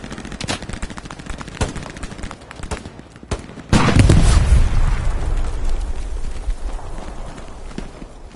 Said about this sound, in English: Artillery, is that you shooting?